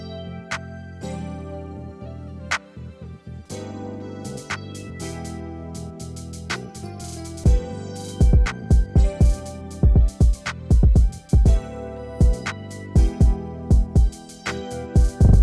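A 90s R&B style drum groove for a beat, with complex drums that start sparse under a melody and build into punchy, busy hits in a steady rhythm.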